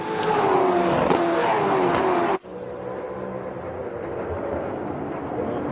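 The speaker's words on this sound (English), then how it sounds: "listen to them under braking as they go back down through the gears. Really hear all 8 cylinders firing at the moment" V8 race cars at Queensland Raceway roar loudly past during a race, then the sound drops abruptly after about two seconds to a lower, more distant engine rumble with gear changes under braking.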